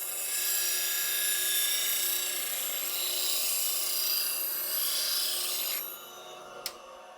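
A woodturning gouge is ground on a sharpening wheel, giving a steady, close, hissing rasp that holds for about six seconds and then drops away as the tool lifts off, leaving only faint wheel whir and a brief click.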